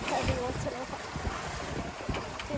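A sailboat under sail at about five knots, with steady wind buffeting the microphone and water rushing along the hull, moderately loud and continuous, with faint voices in the background.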